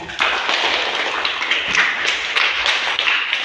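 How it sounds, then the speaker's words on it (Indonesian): A class of pupils in a school lesson claps together, making a continuous, fairly loud patter of many hands with a few sharper taps standing out, and no voices on top. "Ya, tepuk tangan untuk kita semua."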